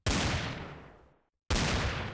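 Revolver firing iron bullets in the Minecraft Revolver Mod video game: two loud synthetic gunshots, each with a long decaying blast tail, the second cutting in after a brief silence.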